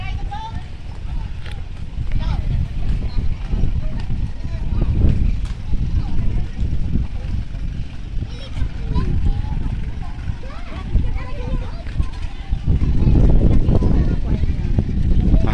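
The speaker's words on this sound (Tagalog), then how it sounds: "Hangin po talaga, guys, ito sa may Pampang, no?" Strong gusts of wind buffet and rumble continuously at the shore of Hundred Islands, Alaminos, Pangasinan, with people talking over the blustery roar.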